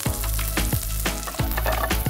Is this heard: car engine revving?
no